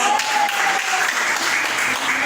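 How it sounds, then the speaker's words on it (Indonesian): A classroom of students applauds a group for its work, a short burst of steady, close clapping that stays even throughout, with a faint voice sounding under it. "Tepuk tangan."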